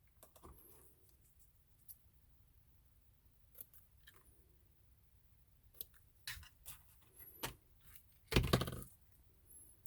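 Scissors snip ribbon ends on a handmade card, giving a few quiet, sharp cuts spaced apart, ending in a louder cluster of snips, close up in a quiet room.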